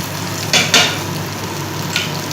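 Ginger and garlic frying in a pan hiss loudly and up close, with a couple of sharp spatula scrapes bursting over the steady sizzle and another lighter stir toward the end.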